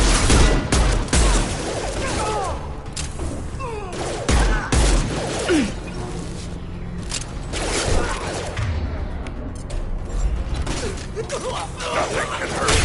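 Mass Effect 2 combat brings loud bursts of gunfire and mechanical clatter in dense, overlapping volleys, with voices speaking intermittently through the chaos.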